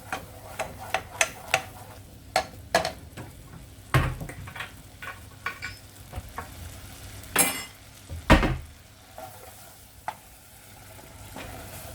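Stirring flour into a bubbling sauce in a pan while making moussaka, with a run of soft scrapes and clicks, then a few louder knocks and scrapes from the spoon against the pan, over a faint sizzle.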